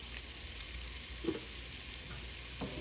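Seasoned chicken with adobo is stirred around in a pan, a faint steady rustle and soft sizzle with a few light scrapes and no voices.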